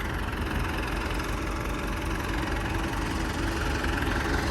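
A tractor engine runs steadily nearby in loose field soil, a constant low diesel rumble with a mid-range throb that holds level throughout, with no talking.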